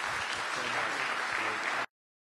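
Steady, full applause from an audience for Neil deGrasse Tyson at a Library of Congress science event, a dense wash of clapping that holds evenly and then cuts off abruptly to silence.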